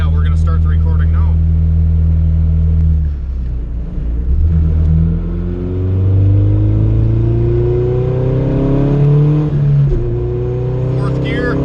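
A Honda Civic tuned with Hondata boost control and fitted with a Megan Racing traction bar accelerates through its gears from inside the car, the engine pitch climbing, dropping at each shift, then rising again, loud and steady, with brief talk.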